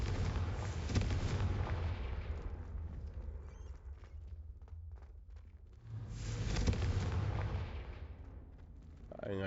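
Confringo spell explosions in the video game Hogwarts Legacy: two long, roaring blast waves, loud and close, separated by a quieter rumbling lull, with a brief crackle at the very end.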